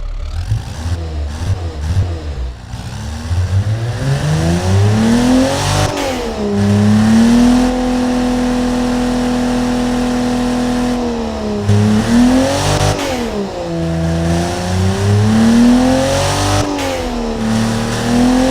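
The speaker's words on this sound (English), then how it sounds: "It's like a diesel engine." A deep, diesel-like sports car engine in the game Automation revs up and down repeatedly, loud and close, with no voices.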